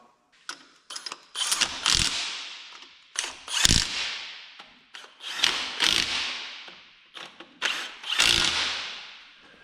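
A power tool tightens lug caps on a Jeep in a shop, with repeated ratcheting impact bursts in several rising and falling runs, loud and close, with no talking.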